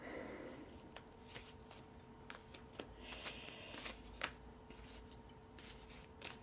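Tarot cards riffled and worked together in a Sako shuffle, giving quiet, irregular papery clicks and brief snaps over a faint steady hum, with no voices.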